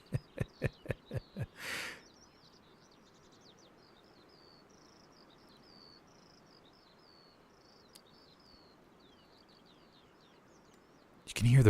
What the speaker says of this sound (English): You can hear the birds chirping.